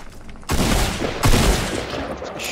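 Loud, close gunfire in the video game Fortnite, a dense burst of rapid shots starting abruptly after a quiet moment and continuing through the rest, with no talking.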